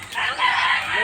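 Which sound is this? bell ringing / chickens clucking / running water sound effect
chickens clucking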